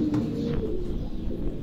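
Farran racing pigeons coo at a pigeon sports tournament in Gujrat, a soft low cooing close by over steady outdoor background noise.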